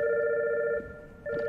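A communicator phone rings from a body in the video game Catherine, a steady electronic two-tone ring sounding alone, pausing briefly midway before resuming.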